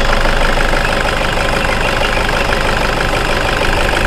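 Toyota Grand Innova 2012 diesel engine idling with the oil filler cap removed, a steady, loud, close mechanical clatter and hum with no change in pace, heard alone.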